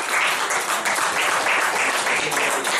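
A church congregation applauding together, dense continuous clapping from a crowd close by, steady for a few seconds.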